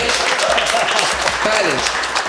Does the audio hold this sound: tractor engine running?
no